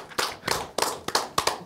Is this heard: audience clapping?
yes